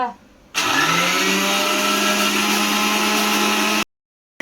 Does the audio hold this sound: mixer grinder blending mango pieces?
yes